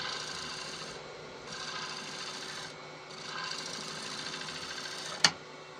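A gouge cuts a bevel on a rough-turned wooden bowl spinning on a lathe, giving a steady raspy scraping in three or four passes with short gaps, close and fairly loud, ending with a sharp knock.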